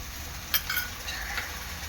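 Ginger, garlic, chili and coriander paste is stirred into fried onions for an Agri Koli chicken curry, a soft sizzle with a brief clink and scrape of the spoon against the pan.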